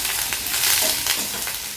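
Whole spices, with bay leaf, cardamom and a piece of cinnamon, fry in hot oil for a mixed veg curry, a loud, dense sizzle with stirring swells close by.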